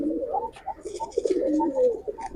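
Giribaz pigeons in a loft give soft, rolling coos that run continuously through the moment, close by, with faint fluttery rustles above and no talk.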